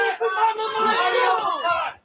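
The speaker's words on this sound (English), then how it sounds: "They're all yelling Mama Demon here at this point." A live fight show crowd yells and chants in unison, a loud, dense wall of voices that swells and holds for about two seconds before dropping off at the end.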